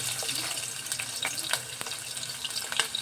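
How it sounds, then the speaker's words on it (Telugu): Onions dropped into hot oil hiss and crackle in a soft, continuous sizzle with a few brighter pops, close but fairly quiet, with no voices. "ఆయిల్ పోసుకుందాము. ఉల్లిపాయలు వేసుకుందాం."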